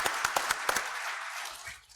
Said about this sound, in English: Nice round of applause to our panel.